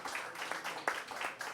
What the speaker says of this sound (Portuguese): um grande aplauso para John Lennon, por favor